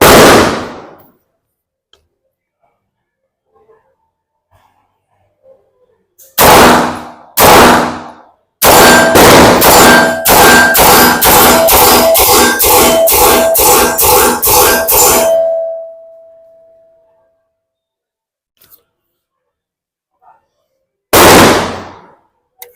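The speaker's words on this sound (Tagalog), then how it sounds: "testingin naman natin itong 9mm ng CMMG Banshee. Actually, masarap talaga iputok ito." CMMG Banshee 9mm firing outdoors: a few single loud shots, then a rapid string of a dozen or so sharp reports with a ringing tail, and one more shot after a pause.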